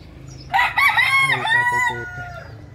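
A rooster, a 9 to 10 month old quality gamecock from a seller in Rosario, Batangas, gives one loud, close crow with a rising start and a long drawn-out finish, over faint background noise.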